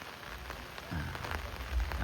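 Rain falls over a durian orchard in Thailand, a steady patter on surfaces with a few heavier drops and soft low thumps, continuous and moderately close.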